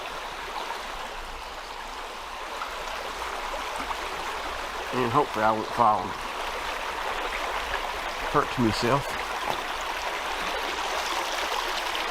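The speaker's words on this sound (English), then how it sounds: "Lots of water. It's probably overriding anything else we might hear right now." A stream of water rushes steadily outdoors along a walking route, a constant loud wash that runs throughout, while a person speaks briefly over it.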